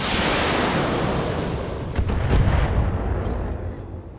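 Mech rockets fire in the video game Battletech, a dense roaring barrage of launches and blasts that swells into heavy booming impacts, loud and continuous before easing off.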